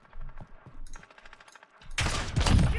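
Gunfire in a first-person shooter game, sparse pops and clicks at first, then a loud, close burst of rapid automatic shots at the end.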